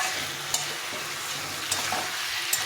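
Bottle gourd stir-fried in a pan, an even close sizzle with a few sharp clicks of a spatula against the pan.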